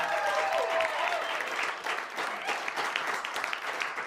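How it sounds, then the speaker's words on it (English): A studio audience applauds Scott Cam at a live TV show on Bowen, a dense, steady wash of clapping and crowd noise that stays loud for about four seconds before easing slightly. "Round of applause."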